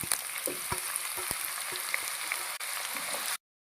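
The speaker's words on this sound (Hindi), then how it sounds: "देखें, हमारी प्याज फ्राई हो रही है और हल्की हल्की लाइट ब्राउन हो रही है।" Chopped onions frying in oil with whole cumin seeds for tori ka salan, a steady bright sizzle dotted with sharp pops and crackles, close and continuous with no talking.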